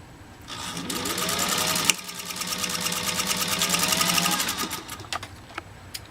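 A Centennial Singer sewing machine stitches through 16 layers of canvas binding tape with a fast, steady mechanical clatter, pausing briefly near the two-second mark before running on and then slowing to a few separate knocks, close and loud.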